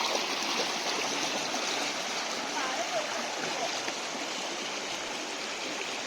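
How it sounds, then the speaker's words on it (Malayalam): Water flows steadily through a forest stream, a dense, constant rushing and gurgling that holds an even level throughout with no other sounds standing out. "വെള്ളത്തിൻ്റെ സൗണ്ട് എങ്ങനെയുണ്ട്? നല്ല രസമല്ലേ?"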